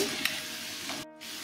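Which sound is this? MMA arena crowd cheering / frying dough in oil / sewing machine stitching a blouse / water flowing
frying dough in oil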